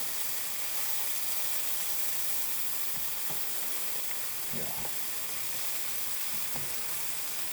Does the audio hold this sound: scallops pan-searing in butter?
yes